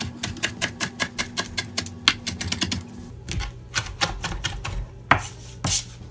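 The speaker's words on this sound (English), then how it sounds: "So I don't have any uniform way of chopping it." A kitchen knife chops food on a cutting board at home, giving a quick run of crisp, evenly spaced chops followed by a slower, irregular burst of louder knocks, close and clear with no talking.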